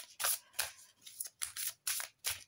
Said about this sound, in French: Donc nous allons mélanger les cartes.